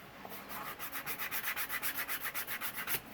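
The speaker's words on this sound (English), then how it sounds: "I like these little sanding sticks." Rhythmic sanding strokes of a sanding stick on leather wallet edges, a steady back-and-forth scratchy rubbing repeated about a dozen times at an even pace, close and fairly quiet.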